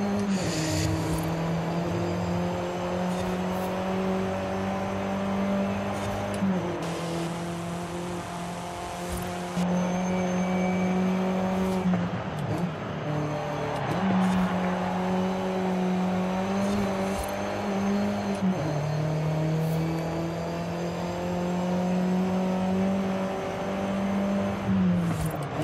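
Engine drone of a Lynk & Co 02 driven hard into corners in a racing video game, with a steady engine note that drops and climbs through gear changes, plus faint tire scrub, loud and continuous.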